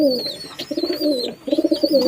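Teddy pigeons coo close by in repeated throaty, rolling phrases broken by short pauses, with a thin high squeak over the top of the calls.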